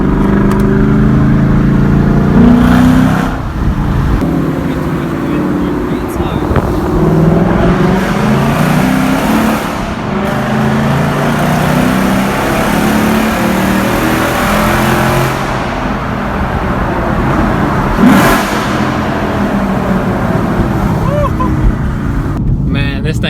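A 2017 Ford Mustang GT V8 revs with its active exhaust valve open, a loud, sustained engine roar with repeated throttle blips that swell and fall throughout, close to the car.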